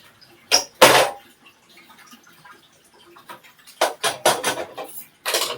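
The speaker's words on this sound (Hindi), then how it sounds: "उसके बाद कर लेते हैं बर्तन साफ।" Dishes and utensils being washed in a home kitchen: a few sharp clinks and clatters of pots and cutlery, with quieter rattling in between and a final burst of knocks, close by and without talk.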